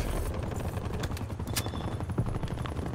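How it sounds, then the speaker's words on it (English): An attack helicopter overhead in Black Ops Cold War, a dull rotor drone mixed with bursts of gunfire and sharp shots, loud and continuous. "Hostile attack helicopter inbound."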